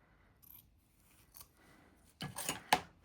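Scissors cut through a piece of fragile, old, dyed paper for journal tabs: a few quiet, close snips, the sharpest and loudest near the end, with no talking.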